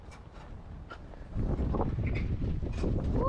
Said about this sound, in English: Windy, windy. Very windy today.